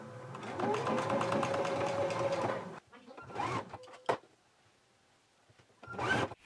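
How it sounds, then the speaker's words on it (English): A sewing machine stitches a 5/8 inch seam, running steadily and loudly for about two and a half seconds, then stops; a few short clicks and mechanical bumps follow, with a brief whirr near the end. "So sewing on a 5/8 of an inch seam allowance, I'm just going to follow along with the previous stitch"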